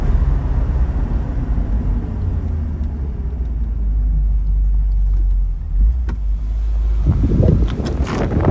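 Corvette coupé driving in second gear, a deep steady engine rumble heard from close by with road noise, and a brief clunk and rise in sound near the end.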